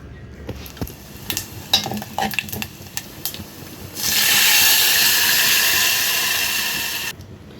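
A tempering (tadka) in a pan gives a few clinks and stirring scrapes, then a loud, dense hissing sizzle for about three seconds before it cuts off abruptly.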